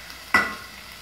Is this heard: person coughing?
no